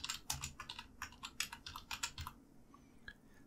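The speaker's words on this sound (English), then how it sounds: "So I type in a name, a folder name, and then create folder." Quick bursts of key clicks on a computer keyboard as a folder name is typed, close and quiet, in an uneven rhythm that tapers to a few scattered taps.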